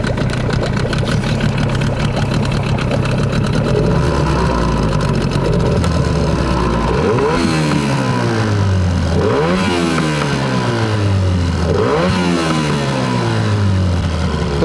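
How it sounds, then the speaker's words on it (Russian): A Tohatsu 9.8 outboard motor running on 92-octane petrol idles with a steady buzzing drone, then is revved several times, each throttle blip rising and falling in pitch, loud and close. "Давайте его заведем и послушаем, как он будет работать."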